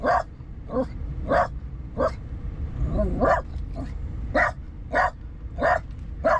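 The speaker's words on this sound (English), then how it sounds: "Now Kit's barking." A dog barks in short, repeated bursts at a steady pace, about a dozen barks over a few seconds, fairly close and loud against a low rumbling background.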